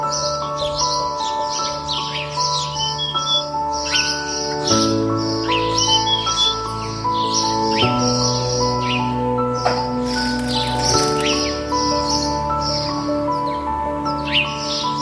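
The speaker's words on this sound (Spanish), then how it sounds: "la neblina se eleva del río y se mezcla con el canto de los pájaros" Birds sing and chirp along a misty river in the Brazilian wild, several calls overlapping above a steady insect drone and a soft tonal bed throughout.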